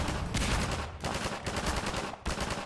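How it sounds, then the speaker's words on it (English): Rapid gunfire in Half-Life 2, dense broadband bursts of automatic shots with short pauses between volleys, loud and continuous throughout. "Stop shooting at me!"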